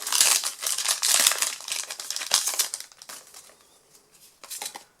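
A Pokémon GO card booster pack wrapper is torn open and handled, producing close, loud bursts of crinkling plastic foil that fade into softer rustles and a final crackle.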